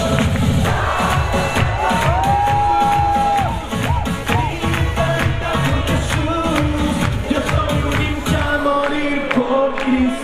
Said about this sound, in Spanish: El aplauso fuerte, a ver que se escuche.